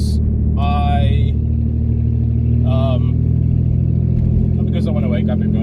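A car with a fault that makes it stall keeps up a steady, loud idling engine drone on a main road, with passing vehicle noise or brief squeals rising above it at intervals.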